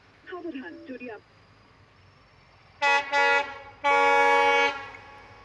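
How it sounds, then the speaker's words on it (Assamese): A train horn blares in two loud, sustained blasts close by as the train approaches a stopped vehicle, after a short burst of higher tooting or voices at the start. "তো এইফালে ট্ৰেইন আহিছে, এতিয়া আমি ৰখি দিলোঁ ইয়াত।"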